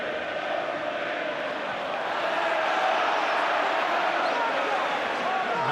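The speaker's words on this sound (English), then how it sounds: "And the crowd are doing their bit." Dense, steady roar of a football crowd filling an Ipswich stadium during a West Ham play-off semi-final, a broad wash of many voices holding loud and continuous throughout with no distinct chant rhythm standing out.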